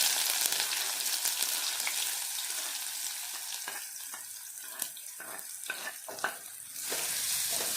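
Onion frying in oil after mustard seeds have popped, cooking until golden: a steady broad sizzle with scattered stir scrapes and spatula taps, close and continuous, easing slightly in the middle before rising again.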